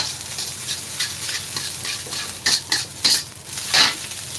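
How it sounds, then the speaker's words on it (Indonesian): Nasi goreng mawut, fried rice, is stir-fried in a pan with scraping and clattering of a spatula against the metal over a soft sizzle, the strokes growing louder and more vigorous toward the end. "Jadi harus agak ngotot di sini kalau goreng nasi."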